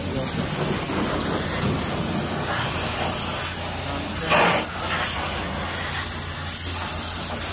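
Steady hissing spray of water from a hose over a car's engine bay during cleaning, with a brief louder gush midway and voices talking faintly underneath.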